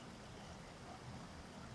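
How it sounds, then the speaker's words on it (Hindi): Water rushes steadily in a stream beside a waterfall, a soft continuous wash of flowing water with no breaks, heard faintly at a distance. "ये जो झरना बह रहा है ना, ये पानी जो बह रहा है"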